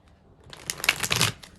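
Tarot cards being shuffled close by, a soft start building into a rapid crisp riffle of papery flutters lasting about a second.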